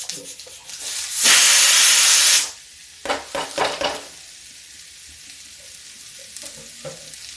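Ridge gourd stir-fries in a pan over low heat, opening with a loud burst of hissing steam for about a second. Several short scraping stirs follow, then only a faint sizzle remains.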